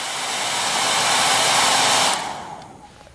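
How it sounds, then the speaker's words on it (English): A roughly 1480-watt hair dryer blows on high speed at a loud, steady roar for about two seconds, then cuts off and winds down quickly. "I'm going to set the hair dryer to the high speed."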